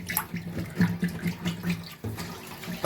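Water splashing and pouring out continuously from a container holding fresh fish, close and steady with small surges, no talk over it.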